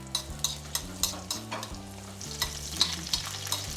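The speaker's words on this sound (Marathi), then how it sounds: "आता आपण एक लोखंडी खोलगट तवा घेतला, त्याच्यामध्ये आपण लसूण टाकणार आहोत आणि आपण त्याच्यामध्ये 2-3 मिरच्या घातल्यात" Garlic and two or three green chillies sizzle in a deep iron pan, crackling and popping steadily as a utensil scrapes and stirs, with music playing softly underneath.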